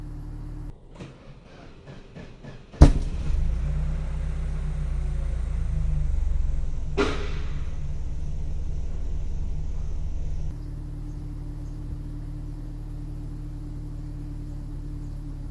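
A Saab 9-3 engine runs with a low, steady rumble, broken by a sharp exhaust bang early on and another later, plus intermittent strange mechanical noises before the sound settles to a quieter idle.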